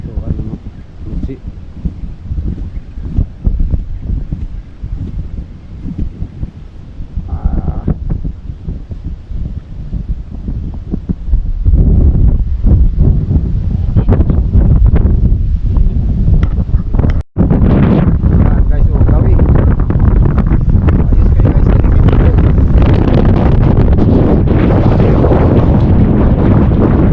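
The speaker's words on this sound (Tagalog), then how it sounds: "Malakas masyado ang hangin" Strong wind roars against the microphone at a coastal fishing spot, rough and uneven at first, then a louder, steady blast in the second half, with speech mixed in.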